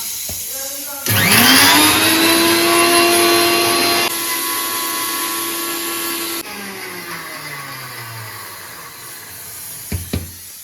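An electric grinder whirring loudly as it blends kitchen face-pack ingredients with raw milk, a steady high motor whine that starts abruptly, steps down in pitch partway through, then winds down, followed by brief clicks.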